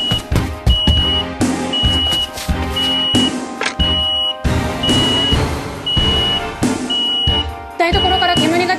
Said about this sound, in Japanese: 住宅用火災警報器のおかげで火事をいち早く知ることができましたね。